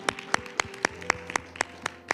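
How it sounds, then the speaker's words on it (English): A few people in a church congregation clap their hands in praise, sharp distinct claps spaced roughly every quarter second at a steady rhythm, fairly close and alone, over a faint sustained tone. "you can give God a hand clap praise for that one"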